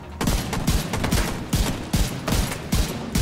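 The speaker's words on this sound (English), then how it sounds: "I'm riddling him with my accurate headshots, and down he goes!" Rifle fire from The Division 2 cracks out in rapid bursts of close, punchy shots with short gaps between volleys, loud and with no voices over it.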